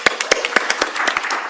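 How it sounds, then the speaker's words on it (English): A short burst of applause from a small panel audience nearby, sharp individual claps at an uneven rhythm. "Round of applause."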